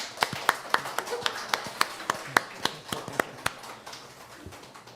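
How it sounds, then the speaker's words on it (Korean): A small church congregation gathered for Sunday worship claps in congratulation of a newly married couple: a sparse run of distinct, separate hand claps at an uneven pace, fairly close, with nothing else over them. "우리 축하와 격려의 박수 한번 하도록 합시다"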